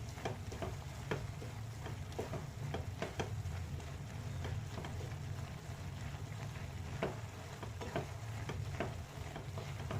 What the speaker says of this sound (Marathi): मिक्स करून घेऊया.